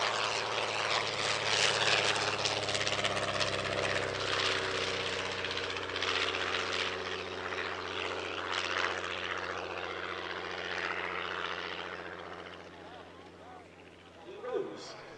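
A Miles Hawk Speed 6 single-seat racer aeroplane drones overhead at an airshow, a steady propeller engine hum that swells and fades under a voice speaking throughout.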